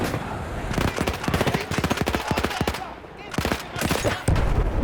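Rapid bursts of automatic gunfire crackle in quick succession, with a short pause midway before another volley, close and sharp in the video game Battlefield 1.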